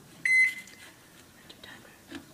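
A microwave oven timer gives a short electronic beep, brief and fairly close, followed by quiet kitchen handling sounds and faint talk.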